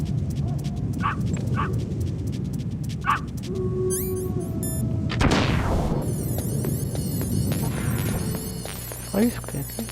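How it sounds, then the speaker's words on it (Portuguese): A dog barks a few times in the Metal Gear Solid video game over a steady electrical hum, followed by a rising synthetic sweep and game sound effects. "Cachorro?"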